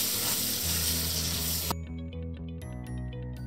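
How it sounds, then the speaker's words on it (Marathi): Eggplant sautéing in spice masala for a mixed winter vegetable dish, giving a steady sizzle and frying hiss that thins out halfway, followed by light stirring clinks, with no talk. "वांगी थोडीशी परतून घ्यायची आहे सगळ्या मसाल्यामध्ये"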